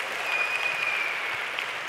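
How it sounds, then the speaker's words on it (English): Audience applause at a female founders tech conference, a short burst of dense, steady clapping from a large crowd, continuous and fairly close. "I think we need to give ourselves a huge round of applause."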